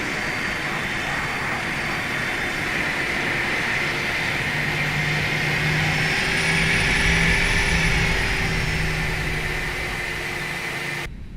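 The jet engine of an Airbus A319 in a flight simulator game hums with a loud, steady whine and roar, a high tone drifting slightly as the sound swells and holds, with no talk over it.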